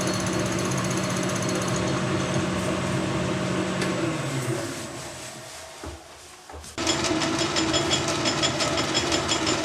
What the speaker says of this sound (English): I'm using this drill because it's a new drill